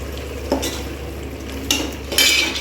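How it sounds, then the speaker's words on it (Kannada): Chicken biryani masala frying in oil in a pan, with a soft sizzle under a few scrapes and clinks of a spoon stirring against the metal. "ಇದೆಲ್ಲ ಚೆನ್ನಾಗಿ ಫ್ರೈ ಆಗಿ ಆ ಎಣ್ಣೆ ಎಲ್ಲ ಸುತ್ತ ಬಿಡೋವರೆಗೂ ಫ್ರೈ ಮಾಡ್ಕೊಳ್ಳಿ"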